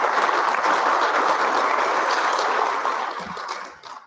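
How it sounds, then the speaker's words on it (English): A conference audience at an HVAC industry summit claps for a panel of speakers, dense, even applause that holds steady and then thins out and fades away near the end. "let's give it a round of applause for our panelists"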